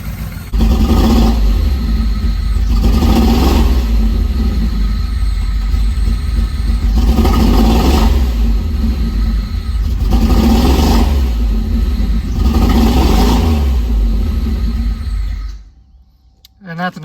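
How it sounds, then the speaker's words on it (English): A car engine, recently fitted with a newer ECU, revs repeatedly in steady rising and falling swells, loud and close, and then cuts off near the end. "I can rev with the newer ECU and not have any problems now"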